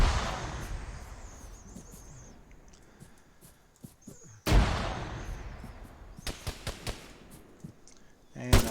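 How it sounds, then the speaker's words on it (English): Arma 3 combat: a grenade blast booms out sharply midway, followed by a few cracking gunshots and distant rumble over steady game ambience. "Feed him a grenade."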